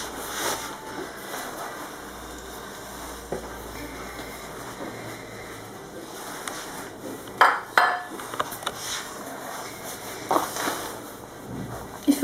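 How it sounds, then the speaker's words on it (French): Dry ingredients, flour and icing sugar, being stirred together in a bowl for sellou, with soft scraping and rubbing plus a few sharp clinks of utensil against the dish near the end. "Il faut que je mélange les ingrédients secs tout à la fois avant de rajouter le beurre."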